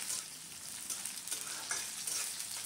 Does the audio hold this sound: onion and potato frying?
yes